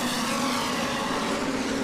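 An off-road racing truck's engine screams steadily and loud on the Lucas Oil Speedway dirt track, a dense, sustained high-revving roar with no break.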